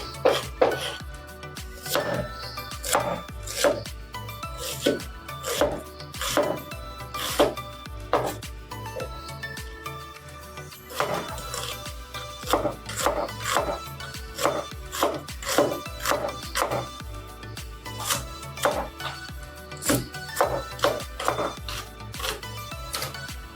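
A knife repeatedly chops bottle gourd on a cutting board for making a milk curry, giving steady, fairly loud close-up knocks in irregular bursts with short pauses and no talk.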